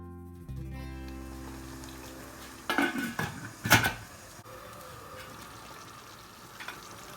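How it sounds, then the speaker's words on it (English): Chicken biriyani gravy is stirred in a pot, a few clattering metal scrapes and knocks of a spoon against the pot over a faint low simmer, then quieter cooking with a last light clink. "Then give a mix and cook for another 2-3 minutes."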